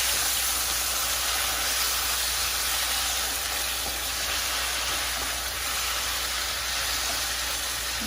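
A vegetable pan hisses loudly after water is added, giving a dense, even steamy sizzle that holds steady throughout, close to the microphone, with no voices.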